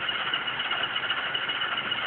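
An MRC sound decoder in an Atlas CSX NRE Genset model locomotive plays an Alco-style diesel prime mover at a steady idle, a continuous mid-pitched engine hum with no talk.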